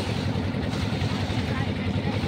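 A boat travels along the river route at Bholaganj, its engine giving a loud, steady, close drone mixed with rushing water that runs unbroken throughout.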